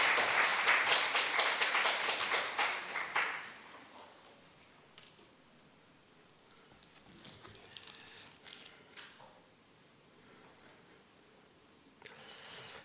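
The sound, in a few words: church congregation applauding to welcome the elder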